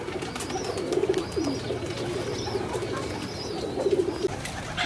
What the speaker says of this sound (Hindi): ये देख लें व्यूअर्स, ये कबूतर उड़ के बैठ गया।